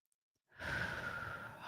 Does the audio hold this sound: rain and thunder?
no